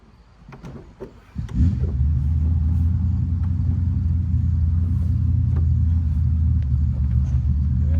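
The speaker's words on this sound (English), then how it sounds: "My neighbor's starting up his hot rod Chevy." A hot rod Chevy engine cranks with a few clicks and sputters, then fires up into a loud, deep rumbling idle that holds steady.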